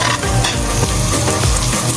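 Onions sautéing for adobo in a pan, a steady loud sizzle with repeated scraping stir strokes, close up and continuous with no voices.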